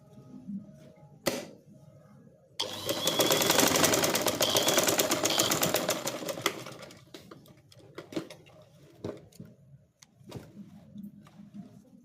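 A sewing machine stitching down an overlap waistband runs in one sustained burst of rapid, even needle chatter lasting about four seconds. Isolated clicks and handling knocks come before and after it.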